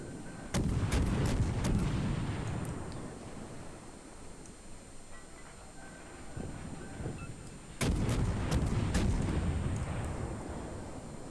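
Naval guns fire from a warship in the World of Warships game, two loud clusters of booming salvos, several rapid shots each, separated by a quieter stretch of rumbling sea and engine ambience.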